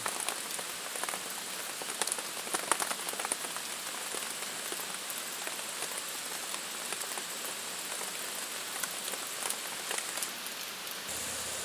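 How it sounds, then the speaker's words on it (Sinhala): Rain falls over paddy fields, heard from a raised hut in the middle of the fields, a dense, even hiss of drops that runs without a break, steady and moderately loud, with no voices. "අන්න යාළුවනේ වැස්ස ඈතින් එනවා"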